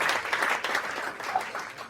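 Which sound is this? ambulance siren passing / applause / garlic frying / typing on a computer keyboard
applause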